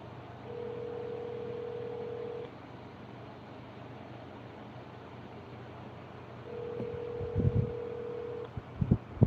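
An outgoing phone call rings out as two long, steady tones separated by a pause, faint and even, with a few soft clatters near the end.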